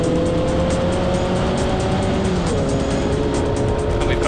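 Formula Vee racing cars roar steadily at Mondello Park, engine notes rising and falling as several vehicles run close together, with a constant loud drone throughout.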